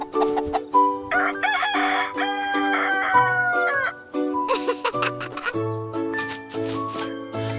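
A rooster crows repeatedly in a French nursery rhyme for kids, its loud, bright calls set among bouncy synthesized music with tinkling notes.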